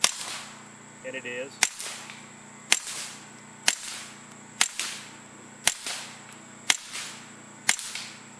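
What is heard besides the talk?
suppressed .22LR pistol shots, CCI standard velocity, Griffin Optimus silencer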